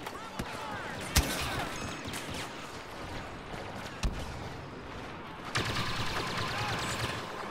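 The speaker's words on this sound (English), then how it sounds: "Ooh, blaster cannon." Blaster cannon fire in a Star Wars video game, several sharp isolated blasts and thuds scattered over continuous battle noise, with a voice talking over it.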